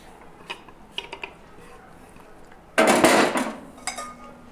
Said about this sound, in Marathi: आता यामध्ये मी बारीक चिरलेला कांदा टाकणार आहे।